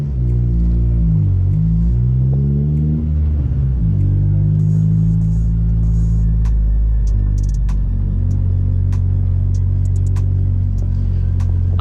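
A 1990s Honda Accord with an H22 engine being driven, its engine a loud steady low rumble heard from inside the cabin, rising and falling in pitch as it shifts through gears, with no one talking.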